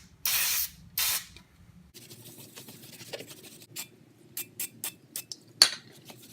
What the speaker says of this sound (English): I'm going to spray this onto a shop towel and then see if we can't get this